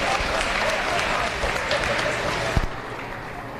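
A crowd applauds at a youth fair steer show, a broad dense wash of clapping with a sharp thump near the end before it thins slightly, steady and fairly loud.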